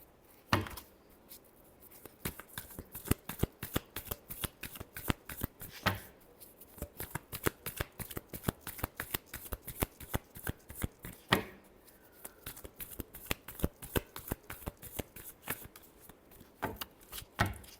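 Tarot cards being shuffled over and over, a fast run of crisp riffling flicks and slaps close by, with a few louder card knocks spaced through the sequence and no talking.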